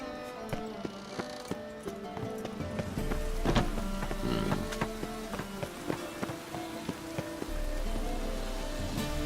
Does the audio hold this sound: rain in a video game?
yes